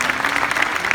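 Convention crowd applause at a fan event, a brief, dense and even burst of clapping with no voices over it.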